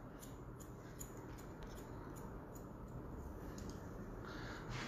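Scissors snip quickly and repeatedly while cutting a woman's short graduated haircut over a comb, a faint, fast, steady rhythm of small metallic clicks above a low, continuous background hiss.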